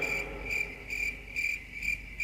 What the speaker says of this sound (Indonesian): Jawa jangkrik.